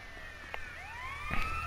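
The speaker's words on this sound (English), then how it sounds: "Ambulance, and they're all up there." Ambulance siren in GTA San Andreas Definitive Edition, a wailing tone sweeping up and down at moderate distance, heard alone with faint background game noise.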